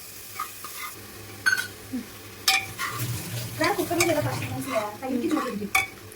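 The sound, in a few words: stirring ginger garlic paste in pan for biryani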